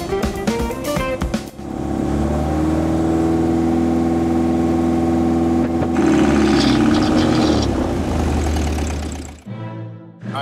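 A boat engine rises to a steady, loud drone, holding high revs near 1900 RPM for several seconds before dropping off abruptly; the engine is losing power at high revs.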